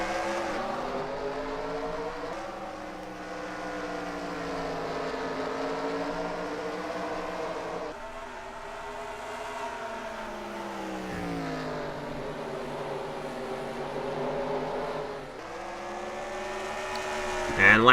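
Stock cars in an ARCA race at Toledo in a racing video game droning together at a steady, sustained engine pitch that rises and falls, with a commentator talking over them throughout.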